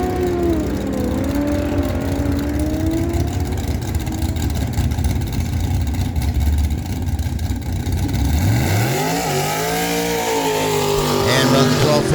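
A Ford Ranger makes a drag racing run at Miramichi Dragway, its loud engine roaring and rising in pitch as it accelerates down the strip. Crowd noise and an announcer's voice carry over it throughout.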